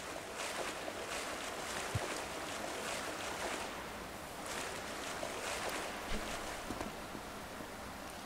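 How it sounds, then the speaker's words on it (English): A larger waterfall in a cave in the video game Subsistence, pouring with a dense, constant roar that stays loud and even from start to finish with no voices over it. "so we have a larger waterfall"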